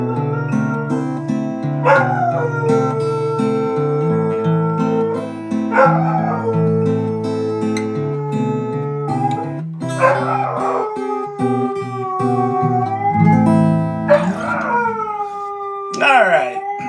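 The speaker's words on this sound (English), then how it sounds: "I don't think the dog's going to sing." A dog howls and yips along with music over a steady musical backing, with long wavering cries rising and sliding at several points.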